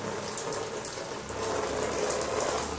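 Shower water runs steadily as a child's bed and plastic-covered mattress are washed, a continuous close hiss of spray that swells slightly louder partway through, with no talking.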